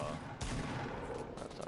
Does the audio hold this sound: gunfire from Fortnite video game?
yes